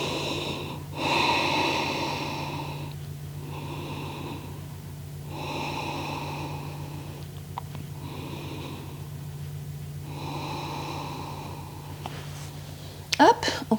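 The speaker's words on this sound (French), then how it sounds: "Et on va calmer la respiration." Slow, calm breathing during a yoga puppy pose, long audible inhales and exhales repeating in an even rhythm over a low steady hum, close to the microphone.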